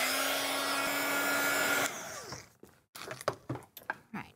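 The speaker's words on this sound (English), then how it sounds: "I'm going to take the little heat tool and I'm going to hit that really quickly with the dryer here." A small heat tool for crafting blows a loud, steady whirring hiss while drying ink on a mason jar sign, then cuts off partway, leaving faint handling clicks and taps.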